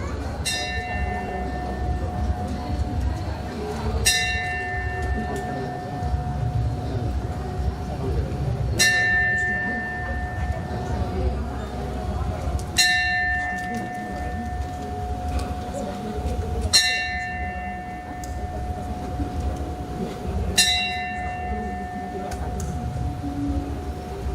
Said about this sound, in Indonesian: Lonceng akan dibunyikan sebanyak 7 kali.